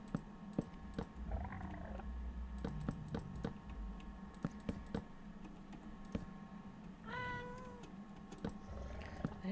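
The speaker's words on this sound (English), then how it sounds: "That is definitely a Minecraft cat sound." Minecraft cat meows come through faintly a few times, one longer wavering cry near the end, over steady keyboard clicking and a quiet hum.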